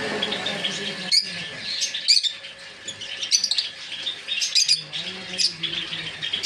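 Cage birds including cockatiels, java sparrows and lovebirds chirp and squawk in quick bursts, close and fairly loud, with a voice speaking faintly beneath them.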